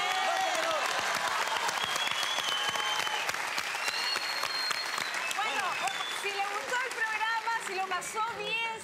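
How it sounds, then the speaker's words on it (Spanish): Studio audience of a Chilean TV show applauding a family from Osorno, sustained loud clapping with scattered cheers and voices rising over it. "Este aplauso mucho más fuerte para esta familia de Osorno."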